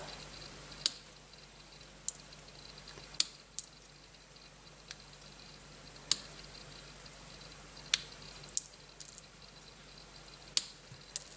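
Scissors snip through dark-blue paper to cut out the centre of paper snowflakes, making a handful of sharp, isolated clicks spaced a second or more apart against a quiet room background.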